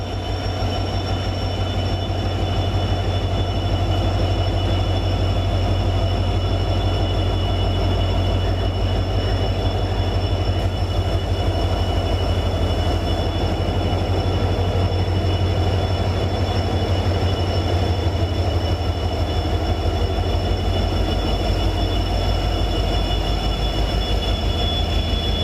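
A train on its trial run along the Karaikal–Peralam railway line rumbles past continuously for a long stretch, a loud, steady low roar of wheels on track with faint squeals, close by and without talk.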